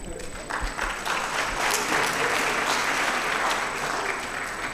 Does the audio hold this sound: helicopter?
no